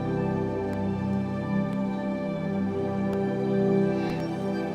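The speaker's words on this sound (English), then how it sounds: "what you're hearing is the built-in sounds from the Privia PXS 7000." Sustained built-in tones from a Casio Privia PX-S7000 digital piano hold a steady chord-like pad, with a few faint clicks scattered throughout.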